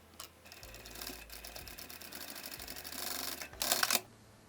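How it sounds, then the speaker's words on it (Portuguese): A sewing machine stitches a seam joining four fabric layers of a hobo bag, running in short quick bursts of rapid ticking with brief pauses, close up, no talking. "E vou passar uma costura aqui prendendo as 4 juntas."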